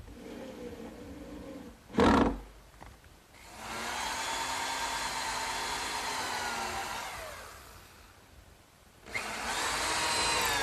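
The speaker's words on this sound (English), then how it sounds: "I'm putting 4 screws in through the back." A power drill driving screws through a plywood backsplash into a garden work table counter: a sharp burst of drilling, then a long steady whir that winds down, followed by another drill run starting, close and fairly loud.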